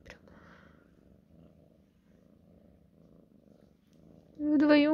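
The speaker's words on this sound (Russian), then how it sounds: "Вдвоем мурчите теперь, да?" Two cats purring together in a steady low rumble through most of the stretch, soft and close, with a louder meow-like vocal burst near the end.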